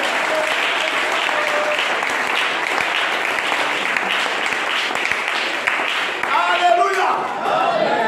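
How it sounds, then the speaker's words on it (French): A church congregation at a Sunday service applauds in a dense, sustained wave of clapping that fills the room steadily throughout, with voices and cheers rising briefly near the end. "Acclamez."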